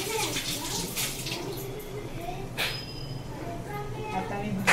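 Water runs steadily as vegetables are washed in a home kitchen, with splashing and some handling sounds close by and a voice talking over it.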